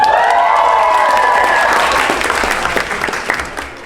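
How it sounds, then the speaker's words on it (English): Wedding guests break into loud, dense applause mixed with cheering, starting at full strength and gradually thinning out toward the end. "I deserve a cheer too."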